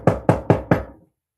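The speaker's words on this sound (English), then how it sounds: "He rapped on the iron door." Four quick, evenly spaced raps on an iron door, loud and close, each hit ringing briefly before dying into silence.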